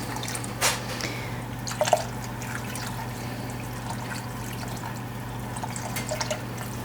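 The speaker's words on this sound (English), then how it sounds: "Let's add some more apple cider." Apple cider drips and trickles into a pot where a pork roast is braising, giving a few soft splashes and irregular drips over a steady low background hum, with no talking.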